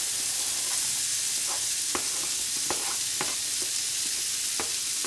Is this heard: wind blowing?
no